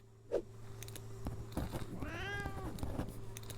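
A cat in the adventure game Memoranda lets out a single drawn-out meow partway through, clear above a steady low background hum, with no one talking.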